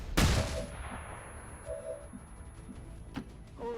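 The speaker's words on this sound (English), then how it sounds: "but this flashbang should do." A flashbang grenade goes off in the video game XCOM 2, a sudden sharp bang followed by a decaying crackle, then a few faint clicks and tones.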